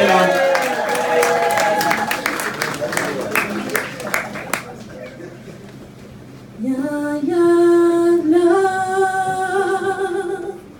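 An audience in a bar gives a round of applause, scattered clapping and cheers over music that fade out, followed by a voice singing.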